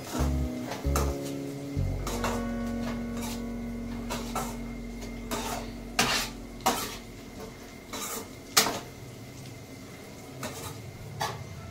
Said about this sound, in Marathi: आता याच्यात थोडी शेंगदाणे टाकते। आता फिरवून देऊन घेते।